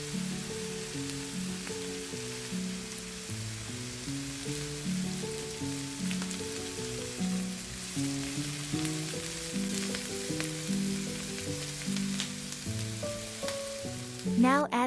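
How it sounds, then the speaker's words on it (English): Onions frying in a pan for a meatball sauce, a steady soft sizzle with a faint musical tone running underneath throughout. "I just love fried onions, how about you?"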